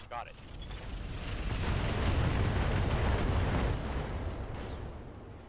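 Mech weapons firing in the RogueTech BattleTech game, a rolling, rumbling barrage of blasts swelling to a heavy roar and slowly fading, loud and dense.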